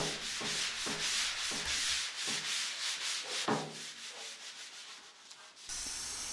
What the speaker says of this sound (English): I sanded this using the 800 grit and then used a tack cloth to remove any of the loose paint.